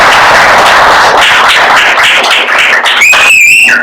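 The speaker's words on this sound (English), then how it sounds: "One more round of applause for Koon and Benjamin" Audience applause at a poetry reading, a dense broadband wash of clapping that holds steady for several seconds before trailing off, with a few whistles rising near the end.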